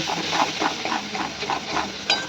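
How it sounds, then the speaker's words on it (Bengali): Ground garlic paste sizzles steadily in a hot pan, with a rhythmic scrape of stirring every half second and a brief clink near the end. "রসুনটাকে ভাজা ভাজা করব"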